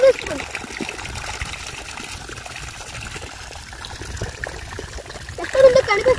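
Irrigation water trickling and gurgling from a drip line in a sugarcane field, a steady low splatter under people talking, with a brief louder splash near the end.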